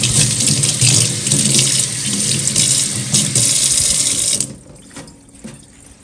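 Hands are washed under a running kitchen tap, a loud, steady close stream of water that splashes into the sink for about four seconds and then stops abruptly, leaving faint drips and handling sounds.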